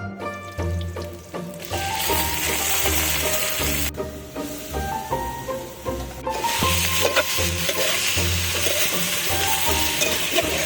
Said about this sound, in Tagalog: Mekos lang uli natin, hintayin natin mag golden brown